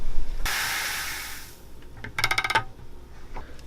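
Homebrew grain being added and stirred into an IPA mash: a broad hissing pour of grain, then clinking, scraping stirring strokes against the pot, close and fairly loud with no talking.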